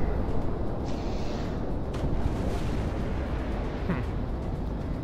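Large bombs detonate in the Project Wingman flight game as a dense, low rumbling roar that stays heavy and continuous, with a few faint higher whooshes over the top.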